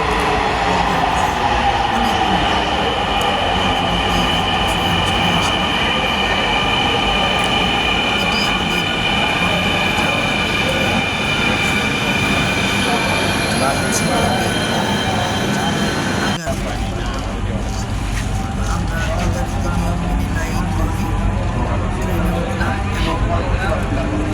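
A Dhaka Metro Rail train rumbles steadily along the rails with a high whine and wheel squeal, continuous and loud, with a sharp jolt partway through and faint voices underneath.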